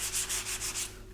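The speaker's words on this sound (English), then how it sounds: "I'll just use a new area on my sandpaper. That will just remove more aggressive." Sandpaper rubbing over a primed surface being smoothed to fix pinholes: about six quick, even back-and-forth strokes, close and steady, with no talking.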